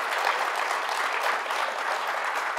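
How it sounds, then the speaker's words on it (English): Steady applause from a debate audience honoring two speakers after a discussion of universal basic income, dense and sustained clapping that fills the whole stretch at an even level. "If you all would join me in giving our speakers a round of applause."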